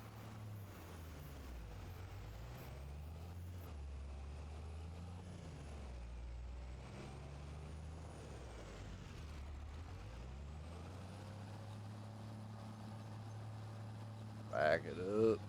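A truck in Farming Simulator idles and rumbles steadily as it backs up, its engine drone rising and falling, with a short hiss near the end.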